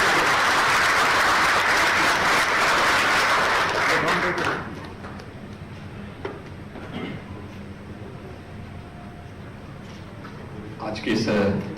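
Applause at an event welcoming Uttar Pradesh Chief Minister Yogi Adityanath in Mumbai, loud dense clapping for about four seconds that then cuts off, leaving quiet room noise with faint scattered sounds and a brief rise near the end.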